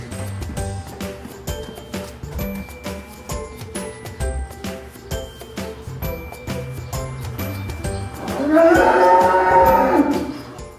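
Cattle on a farm in Mokpo low out in a loud, drawn-out moo near the end, following a stretch of clinking, jingling farm noise.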